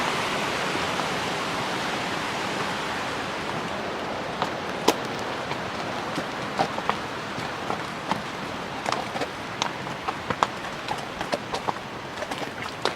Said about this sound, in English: Some of the mountain streams.